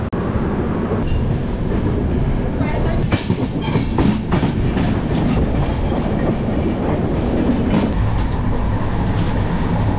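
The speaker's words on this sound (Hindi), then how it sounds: "ये है दोस्तों अपनी वैनगंगा एक्सप्रेस, कोरबा से यशवंतपुर के बीच में चलती है" Wainganga Express passenger train, which runs between Korba and Yesvantpur, rumbling past steadily and loudly for the whole stretch, with rail clatter and wheel noise throughout and no talk.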